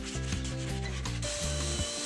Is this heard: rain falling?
no